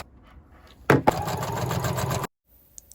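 A sewing machine stitches a bag lining with a 1 cm seam, running in one loud, close, steady burst of about a second and a half before stopping abruptly, with faint clicks afterward.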